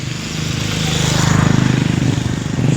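A borrowed motorcycle's engine runs steadily nearby, a loud, continuous buzzing drone with a throbbing pulse that swells slightly over a few seconds, with no talking.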